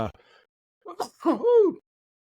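A short voice, then a single sharp, close sneeze with an inhaled gasp building into the burst.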